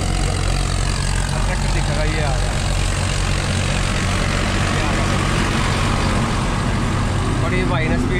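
A Farmtrac Champion tractor engine runs steadily as it drives along a road during an overtake, a loud continuous low rumble with broadband noise that stays constant throughout.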